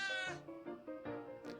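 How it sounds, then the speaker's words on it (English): Several short cat meows from the video game Cat President, a string of quick, pitched mewing calls in succession, fairly quiet and heard alone. "Oh, it's a cat."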